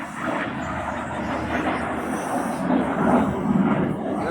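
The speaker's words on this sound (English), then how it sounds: "Slowing the jet down a little bit." A Eurofighter Typhoon jet flies slowly through a display at the Torbay airshow, its engines a steady, loud, broad roar that swells slightly toward the end, with no talking over it.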